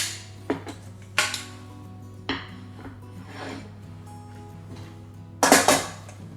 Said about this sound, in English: I would generally just slide a knife around the edge like that, and then you can use your spring form tin to release it out.